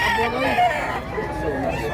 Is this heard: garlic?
no